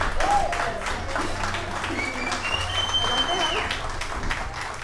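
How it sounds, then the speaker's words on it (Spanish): Crowd applauds for the Argamasa performance group and its subgroup, a steady wash of clapping at fairly close range with a host's voice and background chatter over it. "Un aplauso para los muchachos."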